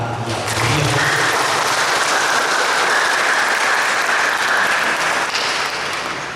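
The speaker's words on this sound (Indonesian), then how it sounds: "mari kita berikan tepuk tangan yang meriah" Sustained crowd applause at a Batak wedding, loud and steady, a dense wash of clapping hands that continues for several seconds before easing slightly at the end.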